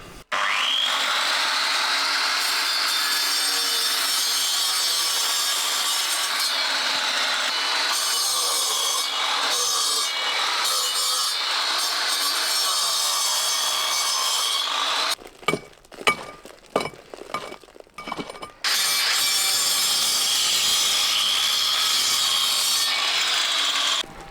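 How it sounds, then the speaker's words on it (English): An angle grinder cuts into stone inside a small underground room, a loud, sustained high whine and grinding that runs unbroken, then stutters into short bursts and resumes steadily. "Angle grinder cut and then with the pickaxe."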